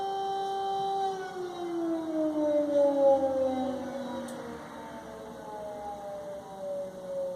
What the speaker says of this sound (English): If it's an air raid siren or a fire truck, because a fire truck just went by the Poland-Ukraine border.